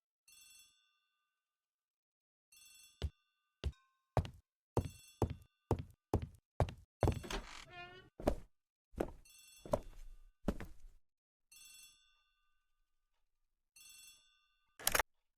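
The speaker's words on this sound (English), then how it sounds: "The telephone in the hall is ringing." Bursts of an old-fashioned telephone bell ring at intervals in a hallway in an Agatha Christie mystery game, mixed with knocks, thumps and footsteps close by.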